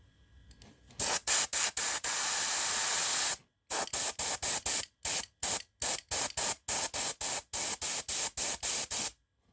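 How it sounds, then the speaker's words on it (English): A cheap airbrush sprays paint in a long steady hiss for about two seconds, then in a string of short, evenly spaced bursts separated by brief silences, close and continuous in tone. "so that's just a cheap airbrush"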